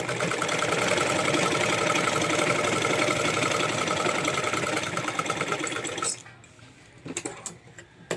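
Sewing machine stitching lace onto a blouse sleeve, a steady close mechanical whir running continuously for about six seconds before it stops, followed by a few faint clicks and handling sounds.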